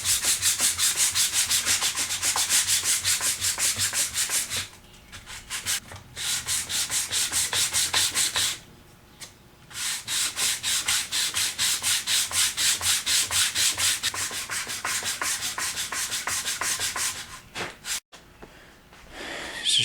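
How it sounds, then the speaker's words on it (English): Sandpaper wrapped around a form rubbing back and forth inside the barrel channel of a Remington 597 rifle stock, a loud rhythmic scratchy rasp in long bursts with a few short pauses between runs. "Wrap it in sandpaper, set it down inside the channel,"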